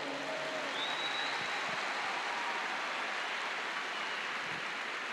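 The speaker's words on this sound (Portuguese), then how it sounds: "Dá um aplauso aí ao Senhor" Church congregation applauding in praise, a steady wash of dense clapping across the room with no breaks, moderately quiet and diffuse, like rain on a surface.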